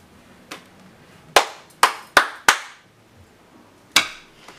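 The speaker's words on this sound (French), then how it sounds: "Un tonnerre d'applaudissements pour moi et mon courage." A handful of sharp, separate hand claps, about six sharp smacks spaced irregularly over a few seconds, fairly close and alone with no talking.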